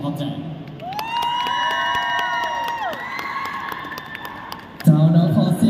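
An audience at a stage event cheers and screams in a sustained roar while a host talks over the crowd through a microphone, with a fresh loud burst of shrieks near the end.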